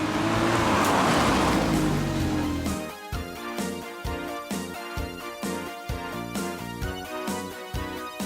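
A Ferrari 348 with almost 100,000 miles drives on the road. A loud rushing pass gives way to a steady engine drone with rhythmic pulsing and wind noise, heard from inside or near the car with no speech.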